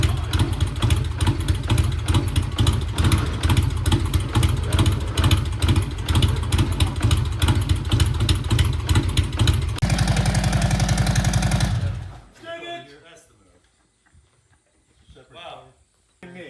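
A 1994 Harley-Davidson Road King with over 300,000 miles idles up close in a steady, loud, low throb, breaking into a faster uneven rumble before cutting off to near silence, with faint talk afterward.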